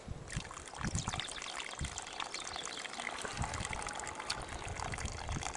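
Water runs from a hose into a spot beside a well of salty water at Malanda, Yenişarbademli, giving a steady, fairly close trickling and splashing flow with no talk.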